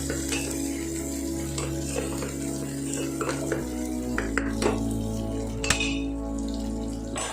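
Ginger garlic paste frying in a pan for a Rajahmundry-style chicken gravy, with steady low sizzling under stirring and scraping, and occasional sharp clinks of a utensil against the pan.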